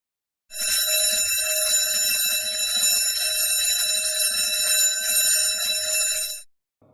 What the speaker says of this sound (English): ring alarm.